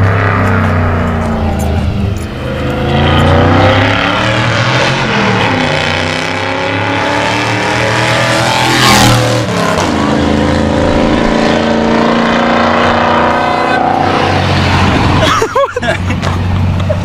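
A Mazda Miata with a full stainless exhaust revs hard and drives past, its loud engine note rising and falling over several seconds before trailing off, with a voice briefly audible.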